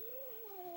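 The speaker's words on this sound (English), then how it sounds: "Make her meow." A cat lets out one short, faint, drawn-out meow that slides slightly in pitch, alone and soft.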